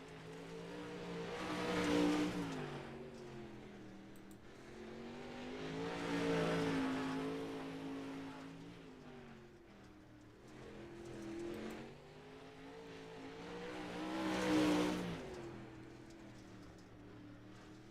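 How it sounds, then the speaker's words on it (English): Pro late model race car in the iRacing simulator at Fairbury, its engine note rising and falling in three broad swells as it laps alone during qualifying, fairly faint and steady. "Next on the track, car number 30F is Brett Fisher."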